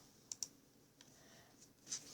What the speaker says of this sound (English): Then we're going to come down to our keyboard and click Delete and then OK.